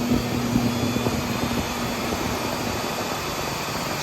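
A GM truck's engine drones loudly as the throttle is whacked while cruising, a broad steady roar with road and drivetrain noise running continuously for about four seconds, no voices.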